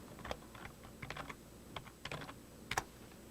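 Light, irregular clicks of typing on a computer keyboard, short bursts of keystrokes separated by brief pauses, quiet and close with no talking.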